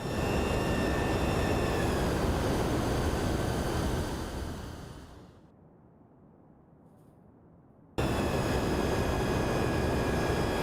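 An aircraft in X-Plane 12, with an MD-11 flight in progress, passes as a loud, steady broadband roar with whining engine tones; it fades over a couple of seconds, drops to near silence, then cuts back in abruptly at full strength.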